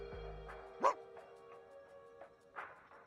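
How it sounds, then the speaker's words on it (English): A single dog bark sounds at mid-distance, brief and moderately loud over a low steady background hum, followed by a few fainter sounds. "Second bark is heard, this time from behind Fingers."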